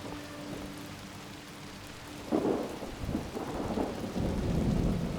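Thunderstorm in Fallout 76: steady rain hisses throughout while a low thunder rumble swells partway through and rolls on, fairly distant and heavy.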